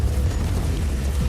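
An explosion in the video game Warhammer 40K Inquisitor gives a deep, sustained rumbling roar, loud and dense throughout with no talk over it.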